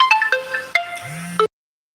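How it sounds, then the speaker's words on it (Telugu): A short electronic phone ringtone plays a few quick melodic beeps and a rising tone, then cuts off abruptly into silence. "ఇంతసేపు ఫోన్ వస్తుంది"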